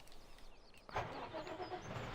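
A truck engine cranks and catches a little under a second in, then runs at a steady, moderately loud idle outdoors.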